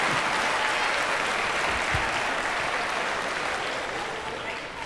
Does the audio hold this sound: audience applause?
yes